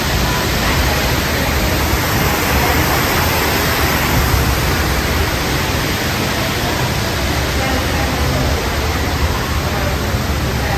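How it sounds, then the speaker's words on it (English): Waterfalls surrounding the entryway of Disney's Polynesian Village Resort, a loud, unbroken broadband rush of falling water that fills the whole stretch evenly, with no clear voices above it. "Waterfalls on all sides, all around you."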